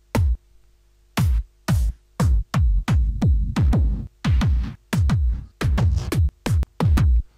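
Club and trance kick drum samples from the Vengeance Essential Club Sound 3 bank, played one after another as a series of loud, punchy, boomy single hits with varying lengths and short gaps, no talk.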